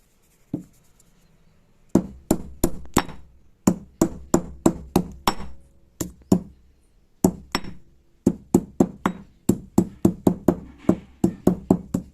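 Pounding ingredients in a stone mortar while preparing a homemade herbal pain remedy, giving a long series of sharp, close thuds in quick irregular bursts with short pauses between them, and no talking.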